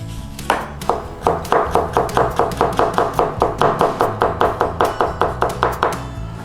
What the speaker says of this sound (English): We're going to actually slice thinly down the mango.